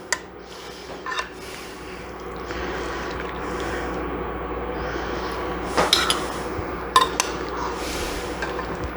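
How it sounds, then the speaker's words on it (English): Cooked vegetables for a pot roast are scooped from a pot into a bowl, with scattered metallic clinks and scrapes of utensil against cookware, a few sharp louder knocks, and quiet breathing between. "I am going to transfer my vegetables into this bowl."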